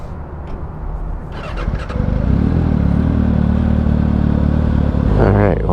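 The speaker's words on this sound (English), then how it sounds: "There's another bike just pulled up here too." A white Yamaha R6 sport motorcycle pulls up nearby, its engine idling steady and loud with a rising rev near the end, while a person talks over it.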